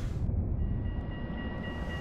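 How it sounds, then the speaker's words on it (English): An Amsterdam 12G tram runs through residential streets in the Metro Simulator video game, giving a steady low rumble of wheels and motor with a faint high electrical whine over it. "this is the Amsterdam 12G tram, which is mostly found on residential streets"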